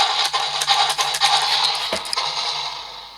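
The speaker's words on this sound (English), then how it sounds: "what you hear is that stomping noise" A Mattel Thrash N' Throw T-Rex toy from Jurassic World: Fallen Kingdom, activated by a foot button, gives off a plasticky electronic stomping effect with scrapy, thudding hits and a faint hum, close and without talk.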